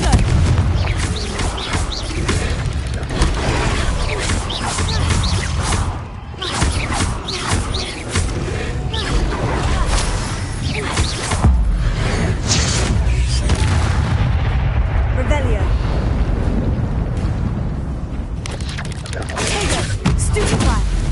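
Blasting-curse explosions from Hogwarts Legacy on PS5 boom in dense, continuous succession, loud and close, with game effects and voices layered throughout.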